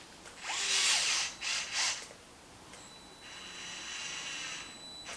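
A power driver tightens a screw on a Traxxas Maxx RC car, giving a few short high whirring bursts close up followed by a longer steadier whine, with no talking.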